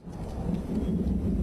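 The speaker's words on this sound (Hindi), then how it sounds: "बिजली कड़कने की आवाज है।" Low, continuous thunder rumbling through a thunderstorm, loud and close with steady rain noise underneath for the whole moment, no voices present.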